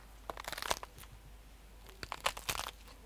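Two short bursts of crisp, snapping crunches, like celery being bitten or snapped, fairly close and quiet, separated by a brief pause.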